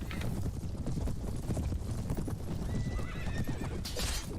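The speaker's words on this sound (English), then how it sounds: "These ones are mounted, I think, so we might get some horses." Cavalry horses gallop in Mount and Blade: Warband, a dense, continuous clatter of hooves with whinnies and battle noise, loud and steady throughout with no talking.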